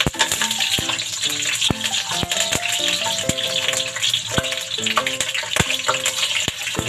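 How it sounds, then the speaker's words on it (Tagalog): Pork belly (liempo) frying in a hot wok-style pan with a little oil, crackling loudly and steadily with frequent sharp pops and spatters, no talking. "Mainit na po yung ating kawali. Pa-pride lang po natin yung ating liempo."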